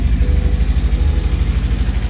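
A 1963 Volvo Amazon wagon engine idling after a fuel adjustment, a loud, close, steady rumble with an even pulsing beat and no talk.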